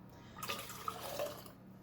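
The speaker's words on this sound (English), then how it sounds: "Okay, so I'm going to ladle this in." Beef bone broth is ladled into jars, with soft liquid pours and drips and a few light clinks of ladle against glass, close and quiet with no voices.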